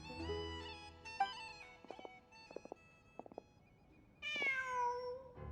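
A cat in the Genshin Impact video game lets out several drawn-out meows, clear and close, with a few soft tapping footstep-like sounds between them and a final longer, rising meow.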